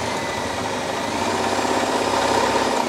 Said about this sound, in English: I'll get my drill bit and I'm gonna just drill straight up